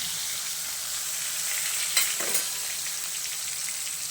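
Urad dal and chana dal sautéing in hot oil with asafoetida in a pan, giving a steady, fairly soft sizzle with a brief scrape of stirring midway and no voices.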